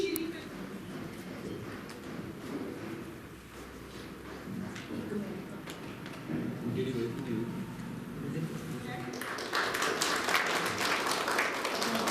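At a school management committee award ceremony in Chamba, a faint murmur of the hall gives way to a burst of audience applause that swells in the closing seconds.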